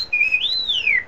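An R2-D2 droid whistle played through a CF-3 sound system: a single bright electronic warble that holds steady, sweeps upward and then glides back down, clean and close for about a second.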